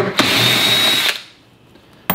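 A power tool fitted with a 10 millimeter socket whirs for about a second while removing a bolt during car trim disassembly, then stops, followed by a brief second burst.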